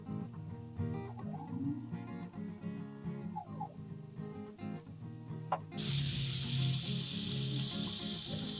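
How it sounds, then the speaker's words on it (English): Cubed butter, two tablespoons, sizzling as it is spread out in a frying pan, with a steady crackle and occasional stirring clicks, then a louder, denser hiss toward the end. "I have 2 tablespoons of butter that I've cubed up. And I'm just going to spread that out in my pan."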